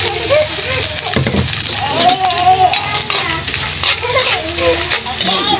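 Anchovies (dilis) frying in a pan for a simple breakfast, crackling and sizzling with stirring scrapes, while people talk over it throughout.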